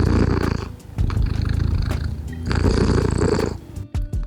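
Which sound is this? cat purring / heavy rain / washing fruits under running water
cat purring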